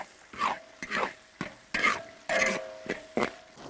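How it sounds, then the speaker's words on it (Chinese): Dried chilies, scallion, ginger, garlic, bay leaf, star anise and Sichuan peppercorns stir-fried hard in a wok, with about seven rhythmic scraping strokes over a crackling sizzle, close and fairly loud. "干辣椒，放到里面爆炒"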